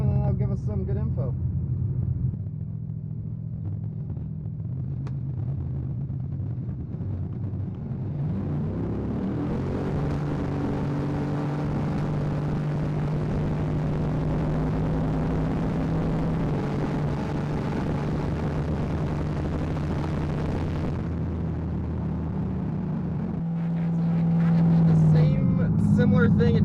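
A drag car with a custom torque converter launching at 2,000 RPM, a deep engine rumble that builds into a long loud pull before cutting back, with people talking over it.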